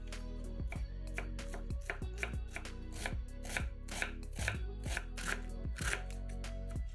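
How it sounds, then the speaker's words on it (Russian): A knife steadily slicing Chinese cabbage on a cutting board for a salad, with regular crisp chops in a quick even rhythm, close and clear over soft background music. "Нарезаем пекинскую капусту"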